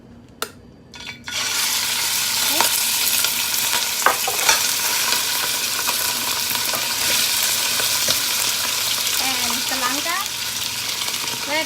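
Beef hitting two tablespoons of hot vegetable oil in a pan erupts into a loud, sustained sizzle after a quiet start, with scraping stir strokes and a voice talking briefly over it.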